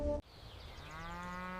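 A cow on a modern dairy farm gives a single drawn-out moo, fairly close and clear, after a brief knock at the start.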